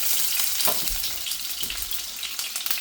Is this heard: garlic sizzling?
yes